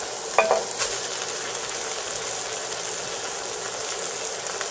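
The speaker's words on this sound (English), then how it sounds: "Alright, now let's add the ground beef and the pork." Ground beef and pork frying in a pan for chili, a continuous close sizzle with a brief clatter of stirring near the start, no voices.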